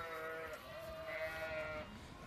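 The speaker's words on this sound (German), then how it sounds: "Die rund 800 Mutterschafe mit ihren neugeborenen Lämmern und den etwa 400 Jungtieren haben die Nacht im Gatter verbracht." A large flock of about 800 ewes with newborn lambs, penned overnight in a Bavarian fold, bleats in continuous overlapping calls, some longer and higher than others, close and steady throughout.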